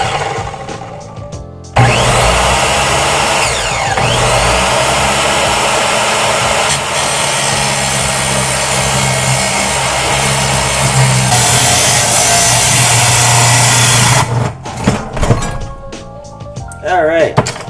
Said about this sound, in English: Alright, finish off the rest of that with the grinder.